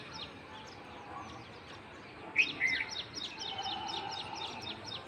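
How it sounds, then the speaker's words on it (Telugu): Sparrows chirp at a water bowl in a terrace garden, giving faint repeated high tweets at first, then a brief louder burst of calls in the middle, over a quiet outdoor background with no talking. "పిచ్చుకలు కూడా స్నానానికి వచ్చేసినాయి"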